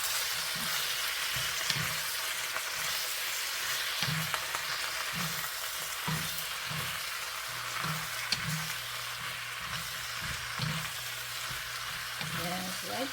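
Cabbage stir-fried in a pan with beef powder and soy sauce, a steady broadband sizzle with repeated soft stirring knocks and scrapes throughout, close and continuous.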